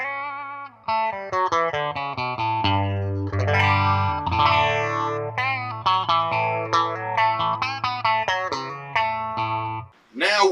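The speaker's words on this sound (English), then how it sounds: "Now I think we're dealing with this very Brian May phaser" Overdriven electric guitar run through a Warm Audio Mutation Phasor II phaser, depth at 10 and rate at 1, giving a loud sweeping, swirling lead line with sustained notes and quick runs, close and alone.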